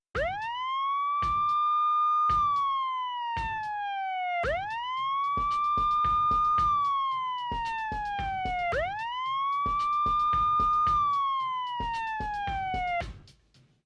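A wailing police-style siren sweeps up and down in a looped pattern, locked to a steady beat of drum hits, loud and close.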